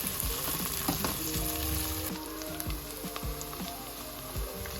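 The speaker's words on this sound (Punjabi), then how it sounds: "ਹੁਣ ਪਾਵਾਂਗੇ ਆਪਾਂ ਲਸਣ ਅਦਰਕ ਦਾ ਪੇਸਟ" Garlic and ginger paste frying in hot oil for a Punjabi fish curry, a loud close sizzle with crackling spatter and the scrape of a spoon stirring through it, no voices.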